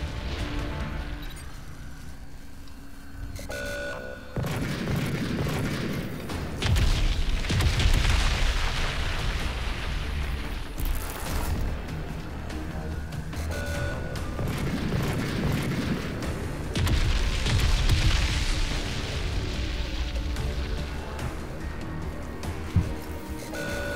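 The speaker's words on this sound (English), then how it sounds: "See, we're shooting actually." Gunfire and explosions from the shooter game Crysis 3 in a ruined Manhattan setting: booming blasts and sustained combat noise, loud and dense, with swelling bursts around the middle and again later.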